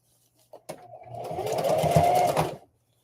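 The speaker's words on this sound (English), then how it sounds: "I'm going to be making a top stitch all the way around" A sewing machine runs a short top-stitching burst on a tote bag, whirring up to a steady, fast needle drone for about two seconds after a couple of clicks, then stopping.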